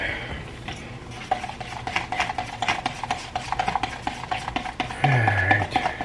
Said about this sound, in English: So let's go mix up some resin.